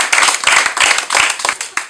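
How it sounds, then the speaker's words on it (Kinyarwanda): An audience at a comedy gift-giving event claps in a quick, close, rhythmic burst of applause, loud and steady for the whole short stretch. "Nyamuka mu amashyi dukomeze."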